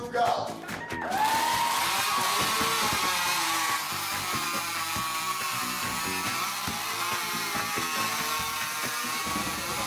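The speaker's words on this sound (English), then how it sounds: "power cut with chainsaws" Chainsaws cut into a log at a lumberjack show in Ketchikan, a continuous high, buzzing whine that revs up sharply at the start and holds steady, with a crowd and a voice heard beneath it.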